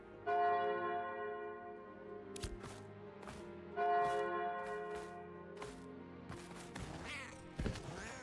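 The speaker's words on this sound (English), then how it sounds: "Oh, that bell's kind of cool." A deep bell tolls in the fantasy MMO Ashes of Creation, with two long ringing strikes carrying sustained overtones over a steady game soundscape, followed by scattered clunks and thuds.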